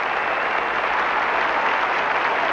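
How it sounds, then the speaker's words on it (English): A dense crowd of spectators cheers and applauds after Torvill and Dean's ice dance at the 1984 World Figure Skating Championships, a loud, even wash of clapping and cheering throughout. "Cheers, cheers all around."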